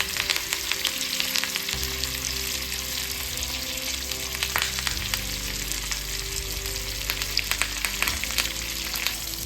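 Fish frying in hot oil with curry leaves, a steady loud sizzle with crackling pops that continues without pause, close up, no voices.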